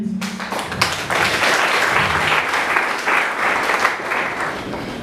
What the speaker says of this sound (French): Encore une fois de plus, on peut l'applaudir.